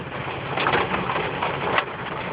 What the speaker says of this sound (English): Just listen to it hit my truck.